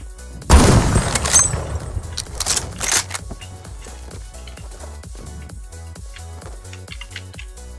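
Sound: gunfire in a video game

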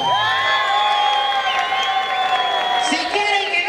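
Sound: audience applause and cheering at live show

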